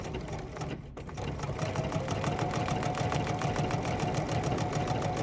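A Husqvarna-style 880 plus sewing machine running a triple stitch on a decorative stitch book, a steady close mechanical hum with a fast regular ticking rhythm that starts up after a brief pause.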